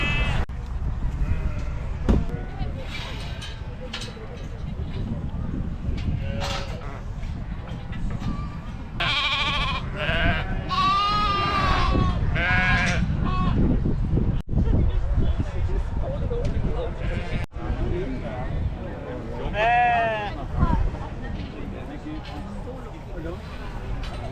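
Sheep bleat repeatedly, a few wavering calls close by and others farther off, over a steady farmyard background with people talking throughout.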